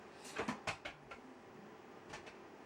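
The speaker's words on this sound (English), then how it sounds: "There's a cat over here knocking things over." A cat knocking household objects over, giving a quick cluster of faint clattering bumps followed by two more after a pause, heard from somewhere in the room.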